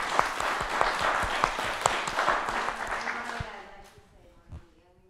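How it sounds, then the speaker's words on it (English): An audience at a panel on homelessness in New York City claps in steady applause that fades out over a few seconds, with brief talk near the end. "Give her a round of applause,"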